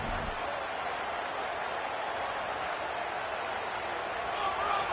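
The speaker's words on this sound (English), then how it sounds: "This crowd bringing the energy and noise early" Stadium crowd noise in the EA NCAA College Football 27 video game forms a steady, broad roar of cheering spectators, continuous and moderately loud without breaks.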